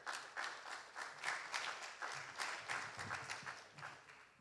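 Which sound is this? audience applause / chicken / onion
audience applause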